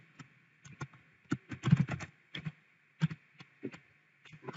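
Typing on a computer keyboard, with irregular bursts of close, crisp key clicks and short pauses, no voices.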